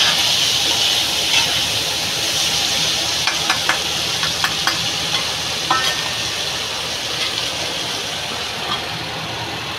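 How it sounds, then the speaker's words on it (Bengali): Pointed gourd (potol) frying in a pan on a lowered gas flame, a steady dense sizzle and hiss running throughout, with a few brief stirring clicks and scrapes near the middle; no talking. "আবার একটু গ্যাসটা কম করে আবার একটু ভেজে দেবো।"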